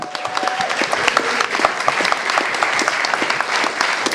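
A live crowd at a Lincolnshire song event claps steadily and loudly, dense applause sustained throughout with no voices standing out.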